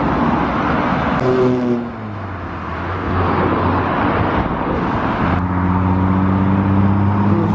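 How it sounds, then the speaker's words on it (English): A Volvo car pulls away from a classic lorry meet at a truck stop, its engine note rising in pitch, dipping, then climbing again as it accelerates, steady and fairly close. "Volvo leaving."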